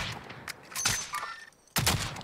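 Gunfire in a shooter video game: several sharp bursts of shots spread across the moment, with a loud burst near the end over a noisy game background.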